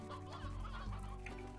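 Chickens cluck repeatedly in the farm game Slime Rancher, game sounds with a steady low hum beneath, no talking.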